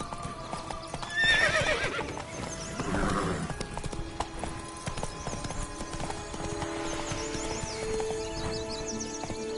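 A horse in The Witcher 3: Wild Hunt gallops with steady, close clip-clop hoofbeats and gives a couple of loud neighs and whinnies, with game music underneath.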